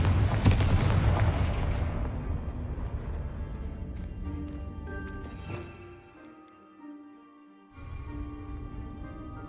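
Confringo fire spell blast in Hogwarts Legacy, a booming explosive burst up front that rumbles and decays over several seconds, followed by sparse clicks and a lower second swell.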